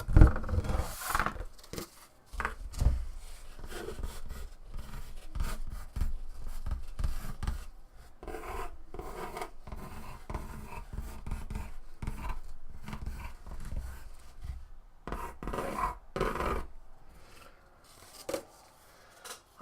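A pen or pencil writing a note by hand on paper during a crafting session gives off soft, close scratching and rubbing strokes in irregular bursts, fairly quiet throughout.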